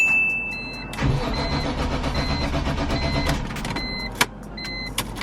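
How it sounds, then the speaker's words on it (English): A BMW E46 M3 engine cranks to prime the fuel system after the fuel filter has been pulled, a steady mechanical churning for several seconds, close and fairly loud, with a couple of sharp clicks near the end. "And now let's go ahead and prime the engine."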